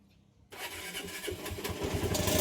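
A motorcycle engine with a faulty starter switch, started through a bypassed starter wire, cranks after a quiet moment and fires into a loud, steady running engine nearby.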